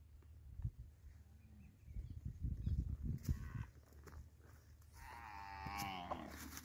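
Thin, dry cattle herd of cows with calves in a drought-stricken pasture, mooing several times at moderate distance, with a long drawn-out low moo near the end and faint background noise.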